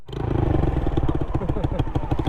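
A Yamaha YZF R125 motorcycle starts up nearby, its single-cylinder engine catching at once into a loud, steady, rapidly pulsing idle with a faint mechanical clatter.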